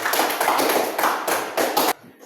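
A short burst of clapping from a classroom audience at a sociology teaching session, several quick rhythmic rounds of hand claps that stop abruptly, with no speech.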